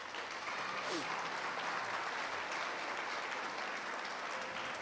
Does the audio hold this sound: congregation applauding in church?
yes